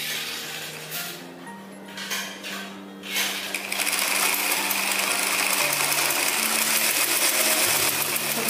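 A sewing machine stitches elastic onto a gathered skirt, starting with a few short stop-start runs and then settling into a loud, steady whir, close up and with no speech.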